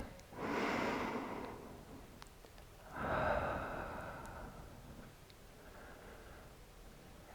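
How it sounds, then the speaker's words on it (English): A yoga class participant takes long, deep breaths, two slow breathy inhale-exhale swells close to the mic followed by a fainter third, with quiet room tone and no talking. "You just do long, deep breathing."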